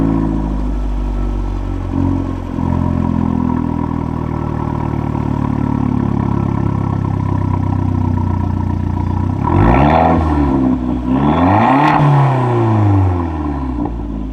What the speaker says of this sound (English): One of the coolest things about this car is the exhaust sound straight from the factory.